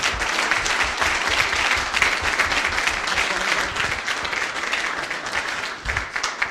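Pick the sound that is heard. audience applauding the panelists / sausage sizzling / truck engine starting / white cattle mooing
audience applauding the panelists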